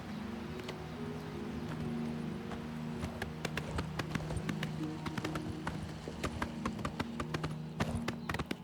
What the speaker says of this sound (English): You can only ride your horse in the third person